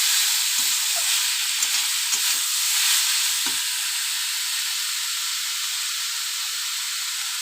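Grated taro frying and sizzling in a cooking pan while being stirred, a steady hiss with occasional soft scrapes of the spoon, close and continuous, no talking.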